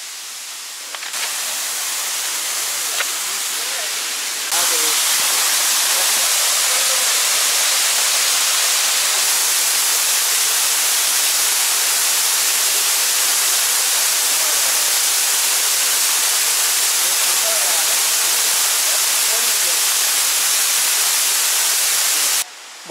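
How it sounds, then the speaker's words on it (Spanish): A continuous broadband roar of waterfalls at Minca near Santa Marta, Colombia, heard close up and steady for the whole stretch, with a quieter opening before the rush swells to full volume. "Aquí ya estoy entrando al lado que vienen siendo las cascadas."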